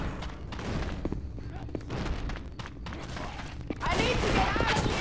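Left 4 Dead firefight with teammates shooting amid a jockey attack: scattered gunshots and thumping impacts over game noise, growing louder and denser near the end, with voices heard in between.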